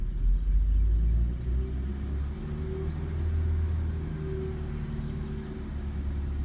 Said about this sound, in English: So I'll increase the RPM a little bit